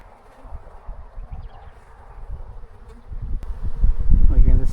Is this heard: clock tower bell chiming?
no